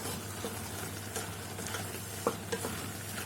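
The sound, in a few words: prawns stir-fried in a pan over high flame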